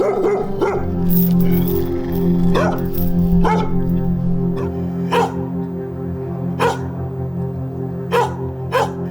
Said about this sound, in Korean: 시끄러워! 왜 이렇게 짖어?